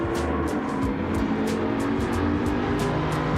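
Pantera engine in the racing game Gran Turismo 7: a loud, steady close-up engine drone with a string of short, regular clicks or shifts layered above, no talk.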